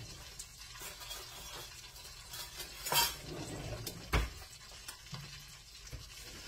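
A fork picked up from a kitchen drawer or counter while cooking dirty rice, with a couple of sharp metallic clinks and rattles standing out over quiet kitchen background noise.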